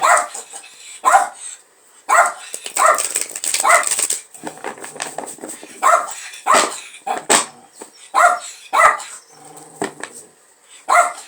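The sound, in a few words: dog barking persistently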